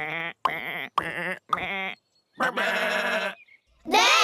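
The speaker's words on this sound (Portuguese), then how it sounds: "Quantas ovelhas faltam, Doug?" Cartoon sheep bleating in a series of separate wavering bleats, loud and close, with short gaps between calls and no speech over them.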